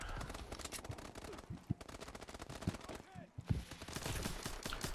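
Rapid, steady gunfire crackles through a chaotic Advanced Warfare Exo Survival riot battle, dense shots layered with other combat noise and a short lull midway.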